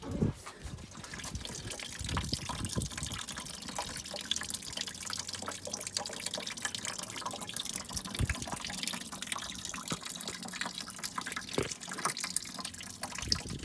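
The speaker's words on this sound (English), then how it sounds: "Hose dripping down." Coolant draining from the bottom hose of a Suburban's car radiator, a continuous trickle with scattered drips and splashes heard close up and without talk.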